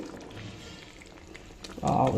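Water is poured into a simmering elephant-foot yam (kanda) pulusu curry, a short splashing gush near the end after a quiet kitchen backdrop.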